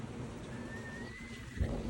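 Steady rain falls on a damp overcast day in Kullu, a soft continuous hiss heard faintly from nearby, with a low thump near the end.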